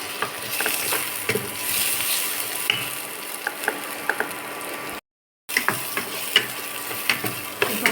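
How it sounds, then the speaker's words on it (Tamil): Paneer tikka frying with square-cut tomato, capsicum and onion: a steady, close sizzle scattered with small crackles and pops, running continuously apart from a brief silent gap. "நல்லா ஃப்ரை ஆகிட்டே இருக்குது"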